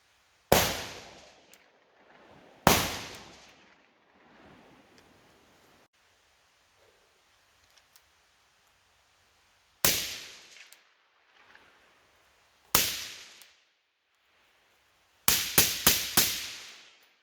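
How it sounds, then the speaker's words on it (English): AR-15 rifle fired outdoors, first unsuppressed and then with a Griffin Optimus Micro silencer: two slow, widely spaced sharp reports, then single shots and a final rapid burst of four, loud and close with no talking. "I'm going to start off unsuppressed, firing off 2 rounds at a slow rate of fire"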